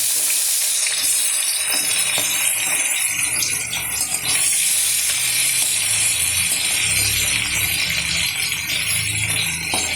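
Small pieces of fish head frying in hot oil in a wok, a loud, dense, steady crackling sizzle that fills the whole stretch with faint bubbling underneath.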